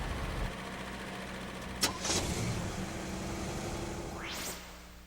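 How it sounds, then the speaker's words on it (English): A car engine cranks briefly, catches and settles into a low, steady idle, with a short sharp click before the start and a faint rising whine near the end, fairly quiet overall. "Then start your engine and allow it to run for a few minutes."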